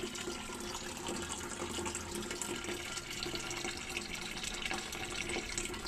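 Clear tap water pours steadily into a container for a basin filling, a continuous bright splashing rush with no talk over it.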